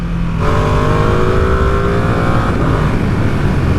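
A Ducati Streetfighter V2 955cc motorcycle engine revs up loudly and close by, its pitch climbing and holding steady before dropping off toward the end.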